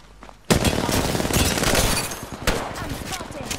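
Rapid gunfire in the video game Apex Legends on PS4 erupts abruptly and keeps up as a dense, continuous burst of shots with a second sharp volley near the end, loud and busy with game effects.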